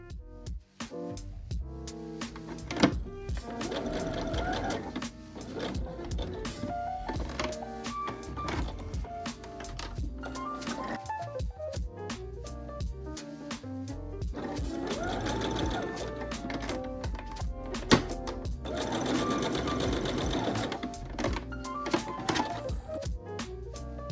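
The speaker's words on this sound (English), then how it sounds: "with a basting straight stitch, sew the yoke to the front" A sewing machine runs long bursts of basting straight stitch, joining the yoke to the front of an asymmetric cutout long-sleeve top: a rapid mechanical whir with brief pauses between runs.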